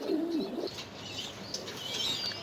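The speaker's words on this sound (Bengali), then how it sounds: "এখানে আমরা দেখাচ্ছি একজোড়া 35 কবুতর, যাকে আমরা 35 কবুতর নামে চিনি।" A pair of 35-breed pigeons coo nearby: a soft, warbling low coo at the start, followed by light rustling and faint chirpy sounds from the birds at close range.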